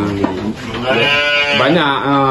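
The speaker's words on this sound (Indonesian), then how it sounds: "Berapa banyak Pak kibas yang kita peliharain?" Fat-tailed sheep bleating on a livestock farm in Lhokseumawe, with loud, close, wavering cries that rise and fall as people talk.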